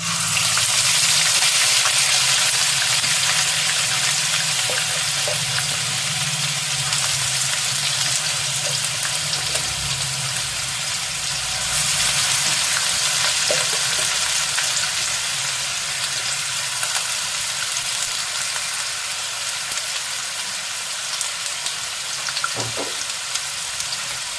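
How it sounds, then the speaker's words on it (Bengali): A masala of onion, ginger, garlic and tomato fries in a pan with a loud, continuous, close-up sizzle. The steady hiss runs throughout, broken only by a few faint stirring knocks, and no one talks. "দেব এর মধ্যে পেঁয়াজ আদা রসুন টমেটোর মশলাটা"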